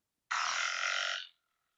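A single low, snoring pickerel frog call, rough and drawn out for about a second, alone against silence.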